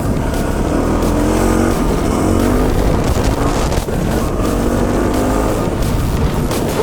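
A KTM 690 Enduro dual-sport motorcycle on a ride, its single-cylinder engine droning steadily and loud up close, mixed with heavy wind rush against the microphone and no speech.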